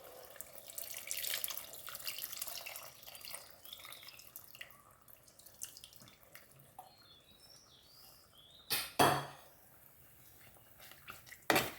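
Strained tamarind water trickles and drips into a pot for a fish curry, faint at first, then a couple of louder splashes and clinks of kitchenware near the end.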